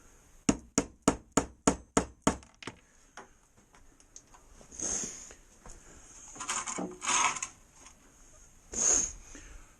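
A screwdriver strikes a wiper bushing on a Chevy Impala: a quick run of about eight sharp, evenly spaced metallic taps up close, followed by louder scraping and grinding bursts.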